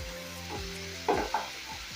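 Tomato paste sizzling in a hot pot for Ndengu curry, a steady frying hiss with a couple of sharper stirring scrapes and bursts partway through.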